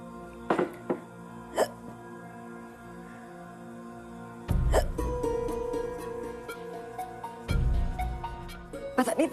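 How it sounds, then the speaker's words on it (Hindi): A person hiccups several times in a domestic drama scene, with sharp isolated hiccups near the start, then louder bursts later over a background of music and room sound. "पता नहीं इतनी हिचकी क्यों आ रही है।"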